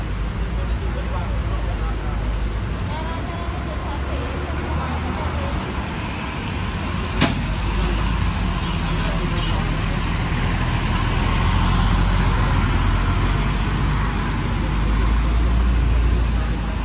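A bus sits close by in the Malioboro parking lot in Jogja, its engine idling in a steady, loud rumble amid surrounding traffic noise for the whole stretch.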